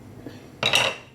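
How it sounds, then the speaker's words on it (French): A metal utensil scrapes and clinks against a bowl while a mixture is stirred, one brief clattering burst after a quiet moment. "vous faites un mélange"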